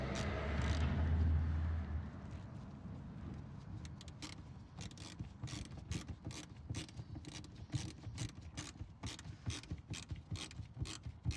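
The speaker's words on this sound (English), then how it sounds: "drive your bolt through it so that way it clamps down" A ratchet drives a bolt through a bracket that clamps a part on a 1971 Datsun 240Z, giving a fast series of close, sharp mechanical clicks that run steadily for several seconds after a brief louder rumble.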